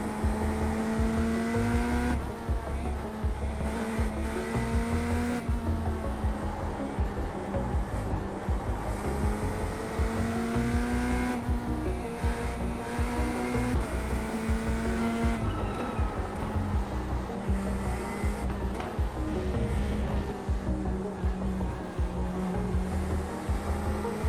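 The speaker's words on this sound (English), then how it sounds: "Just listen to the engine on corner entries." GT3 race car engine in a racing video game at Suzuka, revving and dropping on corner entries with steady loud drone, pitch swells and downshift dips, continuous and close with no talk.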